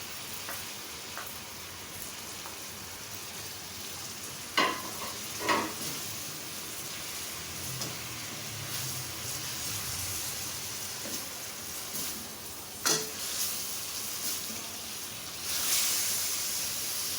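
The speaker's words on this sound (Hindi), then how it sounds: "जो हमने टमाटर रखे हुए हैं कद्दूकश करके वो भी डाल दें।" Grated tomatoes go into light golden frying onions for mutton kaleji masala, giving a steady close sizzle with a few sharp clatters of stirring and a louder hiss near the end, no talk.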